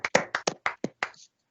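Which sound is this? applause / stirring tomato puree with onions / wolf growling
applause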